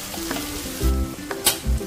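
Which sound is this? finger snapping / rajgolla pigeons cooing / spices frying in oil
spices frying in oil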